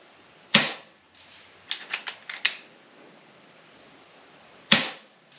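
An FX Impact M3 air rifle fires slugs outdoors. Two sharp, loud cracks come several seconds apart, with a quick run of fainter mechanical clicks between them, and no talk.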